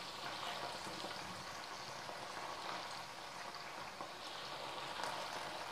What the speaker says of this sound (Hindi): हमने फ्लेम को मीडियम पे रख दिया है और हम इनको आराम से फ्राई करते रहेंगे।